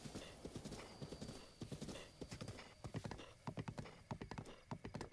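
Rapid horse hooves in Zelda: Breath of the Wild clip-clop in a steady galloping rhythm, fairly quiet, with a brief whinny early on.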